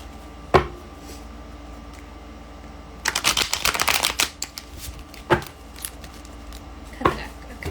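A deck of tarot cards being given a big shuffle, close and crisp: a few isolated snaps, then a dense burst of riffling clatter, followed by scattered sharp card slaps.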